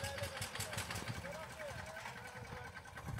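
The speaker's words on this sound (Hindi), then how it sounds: "ये देखो ट्रैक्टर आने लग रहा है," A tractor engine pulls into a sugarcane field, its low, steady idle rumbling close by while a voice talks over it throughout.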